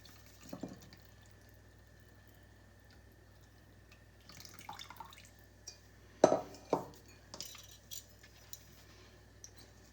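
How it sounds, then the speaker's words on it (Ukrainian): Liquid ingredients are poured into sifted flour to make pizza and khachapuri dough. Quiet kitchen handling gives way to a few brief, close splashes and drips midway, then light clinks. "Беремо так і вливаємо вже рідкі інгредієнти."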